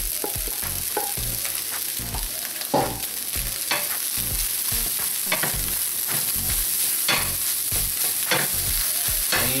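Celery frying in a hot pan for home-style fried rice, a steady loud sizzle throughout with repeated scraping and clattering strokes of a spatula stirring the pieces.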